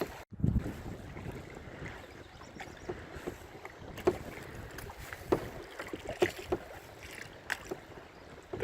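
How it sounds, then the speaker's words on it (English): A kayak paddled on the Priest Lake thoroughfare gives quiet, irregular paddle splashes and drips against faint wind noise, close but soft. "I'm gonna have to start paddling a little bit"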